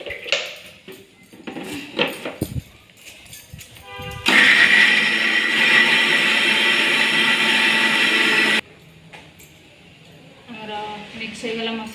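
A mixer grinder grinds garlic, ginger and green chilies in one loud, steady whirring burst of about four seconds, with talk and kitchen clatter before and after it.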